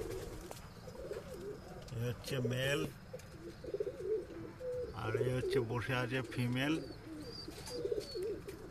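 Andhra high flying pigeons, a breeding pair in a loft, give repeated low throaty coos in two bursts, close by, while someone talks over them.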